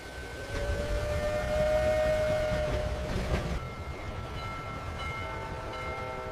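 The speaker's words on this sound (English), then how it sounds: "Our train is leaving!" A train leaving the station rumbles along with a drawn-out horn-like tone and squealing, steady rolling noise at moderate distance, no talking.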